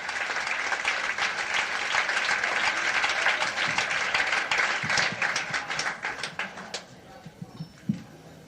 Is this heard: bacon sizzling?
no